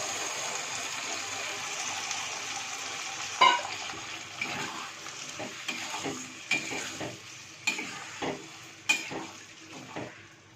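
Boiled peas cooked with salt and turmeric being stirred into frying masala for Bengali ghugni, a low sizzle broken by repeated scraping and clattering stirs in the pan, no voices.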